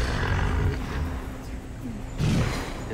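Hippopotamus calls at the Dallas Zoo, deep rumbling grunts carried over steady outdoor background noise, with a louder burst near the end.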